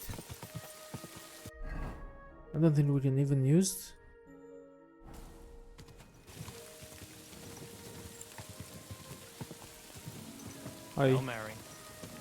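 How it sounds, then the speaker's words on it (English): Steady rain pattering on surfaces in the medieval video game Kingdom Come Deliverance II, a soft continuous hiss throughout, with brief speech and sung voices over it. "Wait, it's raining."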